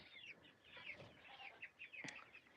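Chickens on a homestead cluck in a quick series of short calls, moderately close and fairly quiet, with faint outdoor background and no talking.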